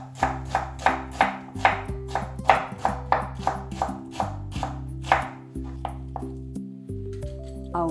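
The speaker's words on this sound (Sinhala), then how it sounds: "ඉඟුරු කෑල්ල මම තරමක් පොඩියට කපා ගන්නවා." A knife chops a piece of ginger into small pieces for a Sri Lankan lamb curry, producing a close, steady run of about fifteen crisp knocks on a board that slow and thin out toward the end, with no talking.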